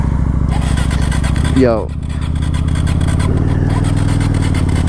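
A Kawasaki Vulcan 900 motorcycle engine runs loud and steady, with one sharp rev rising and falling near the start before settling back to a rumbling idle, while a person speaks briefly over it.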